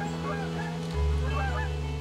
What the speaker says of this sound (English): geese flock here by the thousands to rest on the water